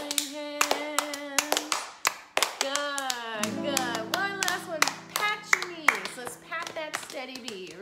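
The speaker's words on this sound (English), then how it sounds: "Clap your hands with me." Sharp hand claps ring out in a steady rhythm beneath a sung children's spring song in a preschool music lesson, close and crisp, continuing throughout.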